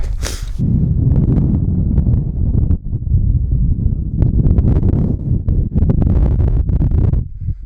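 Heavy, continuous wind buffeting close by on Mount Fuji near the summit, a low roaring rush with gusty swells and scattered crackling bursts, no voices.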